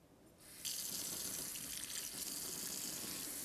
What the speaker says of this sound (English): and now we go to our faucet.